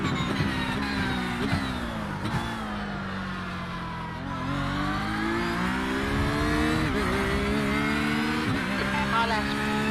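An LMP prototype race car in iRacing's IMSA series at Miami roars past, engine pitch climbing and shifting through gears over steady race-car drone, with a voice talking over it.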